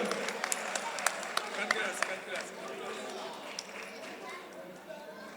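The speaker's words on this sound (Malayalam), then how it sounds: "നല്ലൊരു കൈയടി കൊടുത്തേ ആൻഡോയ്ക്ക്." A live audience applauds Ando at a FOKANA regional kickoff event, a sustained burst of clapping with scattered sharp claps in a hall, gradually thinning out.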